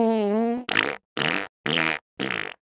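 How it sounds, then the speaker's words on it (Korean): A loud cartoonish fart sound effect: one long buzzing tone, then four short, evenly spaced blasts with silent gaps between them, with no talking. "내 방귀 소리였다"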